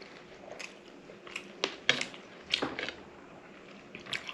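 Boiled food, including a half-boiled egg, is eaten close to the microphone at a mukbang meal. Several distinct crunchy bites and wet chewing sounds come at irregular intervals over a quiet background.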